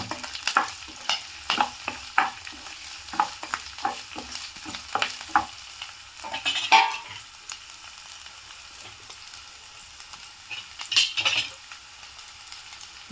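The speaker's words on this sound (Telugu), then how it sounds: "ఇందులో క్యాప్సికమ్, పచ్చిమిర్చి, గ్రీన్ చిల్లీ, కరివేపాకు వేసుకుందాము. కొంచెం ఫ్రై చేద్దాం." Capsicum, green chillies and curry leaves stir-fried in hot oil, with repeated scraping strokes of a spatula against the pan over a steady sizzle, the stirring clustered in bursts with quieter frying between.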